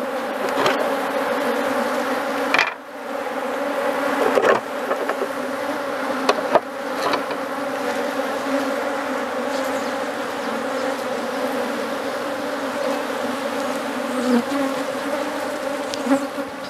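Honeybees drone in a loud, constant buzz close around an opened beehive being split into a mother and a daughter colony, with occasional wooden knocks and thumps from handling the boxes.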